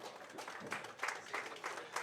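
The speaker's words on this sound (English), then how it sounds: "get a great round of applause" Faint, distant applause from an audience at a professional 8-ball pool tournament, a thin patter of clapping that swells slightly in spots.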